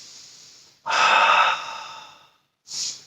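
Close, loud breathing during a Pilates workout at home: a long, forceful breath through the mouth, then a quiet gap and a shorter breath, with no talk in between.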